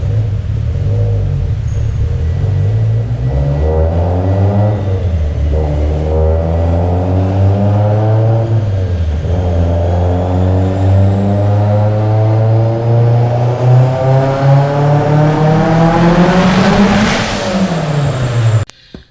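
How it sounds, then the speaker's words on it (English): A loud turbocharged Mitsubishi Evo X engine with a Garrett G35-1050 turbo revs hard and climbs in pitch, dipping several times as it hits boost cut at about 44 psi, then stops abruptly. "That was that boost cut I was referring to."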